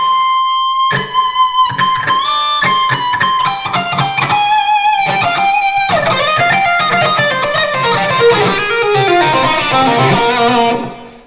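Electric guitar lick woven into a solo melody, a stream of distorted, sustained notes with bends and fast runs, loud and continuous, ending abruptly.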